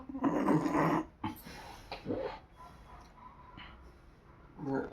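Dog growls and whimpers close by indoors, low rough sounds in a few short bursts with quiet gaps between, and a faint voice in the background.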